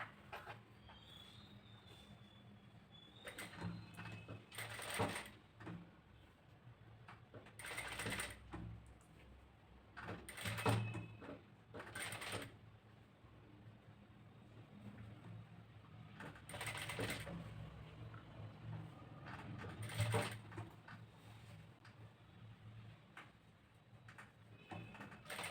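A sewing machine stitching a blouse front neck design runs in short, faint bursts separated by quiet pauses, with a low steady background hum throughout.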